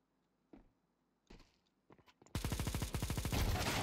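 Gunfire in a video game: a few scattered single shots, then a loud rapid burst of automatic fire lasting over a second, close and dominant.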